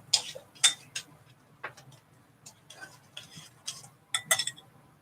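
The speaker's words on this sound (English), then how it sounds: "Stirring the egg into the cheeses." A spoon stirs egg and herbs into a bowl of cheeses for calzone filling, giving scattered light clinks and taps against the bowl, fairly close and quiet, with no talk over them.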